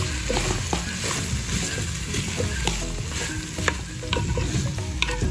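Calabresa sausage fries in a clay pot over a wood-fired stove, a dense continuous sizzle broken by repeated scraping and clacking as a utensil stirs it.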